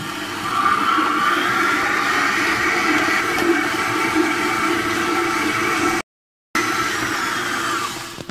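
A stand mixer kneads colomba Easter bread dough, its motor humming and whirring steadily and loudly at close range, with a brief dropout in the sound before it continues.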